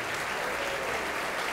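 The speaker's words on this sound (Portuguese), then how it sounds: "vamos dar para esta palavra a melhor salva de palmas que você já deu em toda a sua vida" Congregation in a church service applauding, a dense, steady wash of many hands clapping at once, sustained and fairly loud throughout with no pauses.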